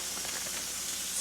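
Breakfast sausage sizzling in a hot pan, a steady faint hiss and crackle without talking.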